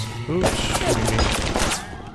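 Automated security turret firing in the game Bioshock, a burst of rapid gunfire lasting a couple of seconds, loud and close, with faint game sounds beneath.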